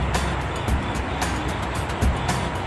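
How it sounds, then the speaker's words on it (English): Steady road traffic rumbling past, a continuous low wash of cars heard from a short distance, fairly faint and without talk. "Are you guys hearing this traffic?"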